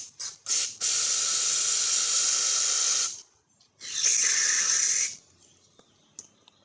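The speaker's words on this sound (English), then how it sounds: "Let's spray some down the needle seat" Two long, loud hissing blasts of aerosol cleaner sprayed down the needle seat of a Husqvarna HU700L lawnmower carburetor close by, separated by a short pause, with a few faint clicks afterward.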